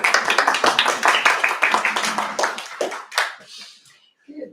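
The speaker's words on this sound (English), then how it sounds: "So a big applause for them." An audience at an urban-rural sustainable development roundtable claps for the associations, a short burst of rhythmic hand claps that tapers off after about three seconds into near silence.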